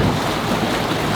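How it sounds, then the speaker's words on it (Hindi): A ferry crossing on the water near Vancouver gives a brief, steady roar of engine rumble, wind and water wash, loud and unbroken, with no voices. "40 मिनट्स की फेरी राइड हमारी स्टार्ट हो गई है भाई"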